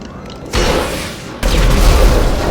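Two loud, sudden blasts from the video game GTA 5, each followed by sustained rumbling noise; no talking.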